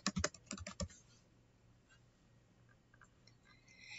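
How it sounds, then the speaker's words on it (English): Someone types on a computer keyboard while filling in a Google Form: a quick burst of crisp, close key clicks at the start, then quiet with only a few scattered faint taps. "you can type the name of the form that you want to use"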